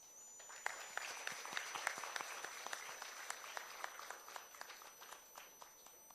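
An audience at a Kathak dance debut performance applauds the musicians, quiet scattered clapping with some distinct individual claps standing out, rising early then slowly tapering off.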